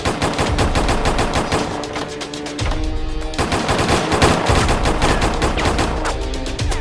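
Automatic machine gun fire rattles inside the Roblox game Brookhaven: loud, rapid, continuous bursts of shots with only brief breaks, no voices over it.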